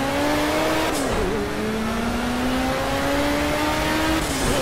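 BMW 320 Turbo Group 5 race car in Project CARS, its engine droning steadily at high revs with a brief dip and shift around the first second, then climbing again, loud and continuous with no talk.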